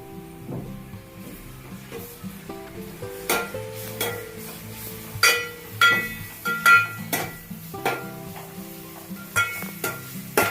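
Green chillies, ginger and turmeric frying in hot oil in a pan for a Telugu broad beans curry, with a steady sizzle under repeated stirring and scraping clatter of a spoon against the pan, close and moderately loud, no talking.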